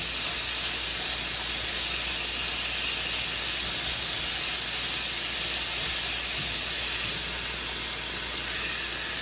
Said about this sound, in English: So I'm just gonna make sure this is seared on all sides.